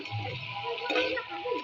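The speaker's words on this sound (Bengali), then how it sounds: "এবার আমি কিছুক্ষণ ভালো করে নাড়া দিয়ে কষিয়ে নেব।" Chicken in hot oil sizzles steadily in a pan while it is stirred, with scraping and shuffling from the stirring close by and continuous through the short stretch.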